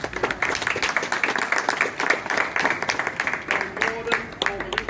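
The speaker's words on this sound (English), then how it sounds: "round of applause, round of applause" An outdoor crowd gathered for a plaque unveiling on Lincoln High Street claps steadily in a dense, continuous round of applause, with voices mixed in throughout.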